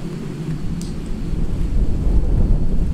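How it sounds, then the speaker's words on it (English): Strong wind roaring loudly at an outdoor cemetery, a steady low rumble swelling and gusting harder over a few seconds with buffeting on the microphone, no voices. "like legit the wind picked up like crazy right now"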